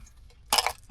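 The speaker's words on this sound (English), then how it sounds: "My ice cube." An ice cube knocks against a glass in a single quick clink in the middle of an otherwise quiet moment, followed by a faint low sound.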